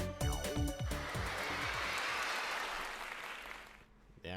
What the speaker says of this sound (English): I like the applause at the end. I like that noise they make.